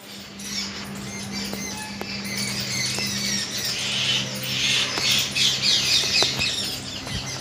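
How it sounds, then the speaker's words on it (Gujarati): Birds squawk loudly and repeatedly around a large Mataji temple at Kamboi, their harsh calls overlapping in a busy chorus over a faint steady hum, with no voices. "પક્ષીઓ બૂમાબૂમ કરી રહ્યા છે."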